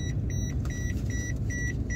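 Car seatbelt reminder chime beeping steadily in short repeated pulses, roughly four per second-and-a-half, over a constant low engine rumble inside the vehicle; no talk.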